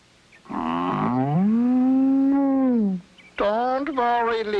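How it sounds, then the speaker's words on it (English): A cartoon cow moos in a long, drawn-out low bellow that bends in pitch, followed after a brief pause by a second shorter moo, loud and close. "Nobody's gonna get my Lena, the only blue cheese cow in the world."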